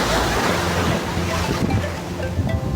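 Surf pounds on the beach at Puri, a loud steady wash of breaking waves with some wind buffeting the microphone and faint voices underneath.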